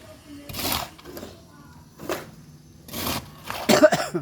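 Several short coughs from a person indoors near an air conditioner, separate harsh bursts spaced about a second apart, with brief voices between them.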